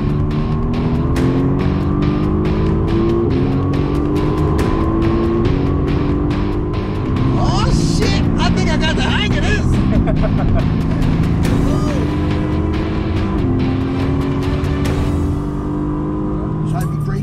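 Car engine droning and shifting at speed around a track, with rising and falling revs and steady road noise throughout, while people talk over it inside the car.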